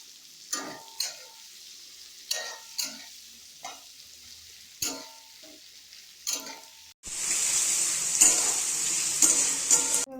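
Sliced onions and bay leaf frying in hot oil for a home chicken curry: a series of sharp stirring clacks and scrapes in a pan, then a sudden loud steady sizzle takes over for the last few seconds.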